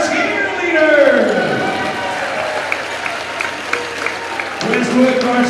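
A basketball gym crowd at a boys' high school game cheers and applauds for the cheerleaders on cheer night, a loud, sustained roar with a public-address announcer's amplified voice over it.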